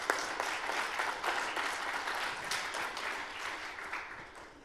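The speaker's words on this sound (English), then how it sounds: "So let's give them a round of applause." A round of applause for a presenting team at a demo day event, a steady, moderately faint crowd clapping that stays even and continuous, tapering slightly at the end with no voices over it.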